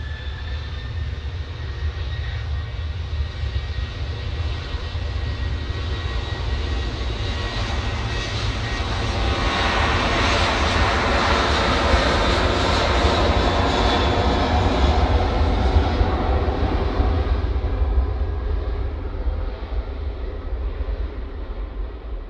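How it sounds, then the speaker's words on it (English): A Jet2 Boeing 737-800 departs from Manchester Airport bound for Catania, its engines roaring steadily and swelling to a loud peak midway before easing slightly, with no voices over it. "just about to depart is another Jet 2 off to Catania. Boeing 737-800."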